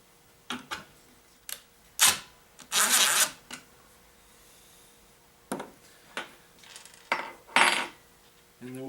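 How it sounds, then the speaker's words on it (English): Metal bolt pushed through a drilled, counterbored hole in a wooden grinder slider jig, giving scattered sharp clicks, scrapes and metallic rattles in irregular bursts, close and distinct. "And now we can go ahead and put our bolt through."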